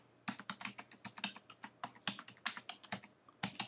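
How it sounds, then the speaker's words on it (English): Rapid key presses on a computer keyboard while a web address is typed, a close, crisp run of uneven clicks and taps with short pauses, heard alone without any talking. "we want to type in"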